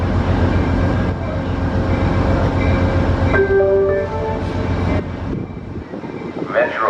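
Northbound Metrolink passenger train rolling past at a rail safety day in Los Angeles, a loud steady rumble and rail roar throughout, with a horn-like tone rising briefly midway.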